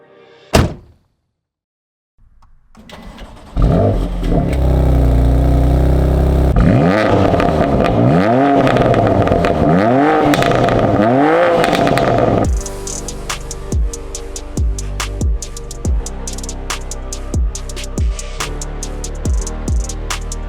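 BMW M2 Competition engine cranking and firing up with a loud bark, then a steady idle, several rising and falling revs, and a rough, pulsing idle afterward, close by.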